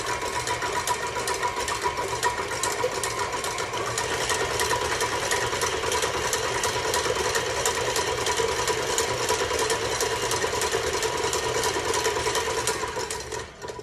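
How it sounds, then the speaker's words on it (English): A stand mixer whips egg whites for a flourless chocolate cake, its motor whirring in a steady, close, buzzing drone with a fast rattling pulse and no break for the whole stretch. "we're gonna drop them into our mixer here"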